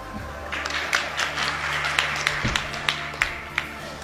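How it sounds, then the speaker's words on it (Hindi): Audience in a public speech hall breaking into scattered applause, a steady wash of clapping with a few sharper individual claps standing out, moderately loud and continuing throughout. "तो आप लोगों ने तालियां बजाकर ये बताने का कष्ट किया कि आपको अब समझ में आ गया है।"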